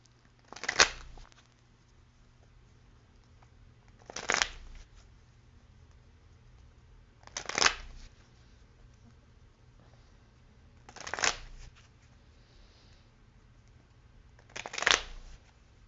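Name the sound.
shuffling a Lenormand Kipper card deck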